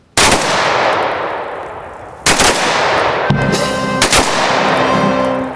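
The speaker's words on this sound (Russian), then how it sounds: "Под выстрелы из автоматов и звуки военного оркестра" Three sharp volleys of automatic rifle salute fire at a funeral in Sarov crack out in sequence, each followed by a long echoing decay, with faint military band music emerging underneath toward the end.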